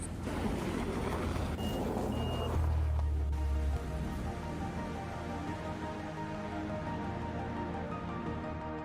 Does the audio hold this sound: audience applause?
no